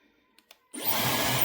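A couple of small clicks, then a hair dryer switches on and blows with a steady, loud whooshing whir close by.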